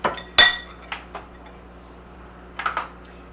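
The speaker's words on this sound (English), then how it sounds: "Stirring that." Banana pudding being stirred in a pot with a utensil, giving a few sharp clinks and scrapes against the pot at the start and again near the end, close and fairly loud, with quieter stretches between.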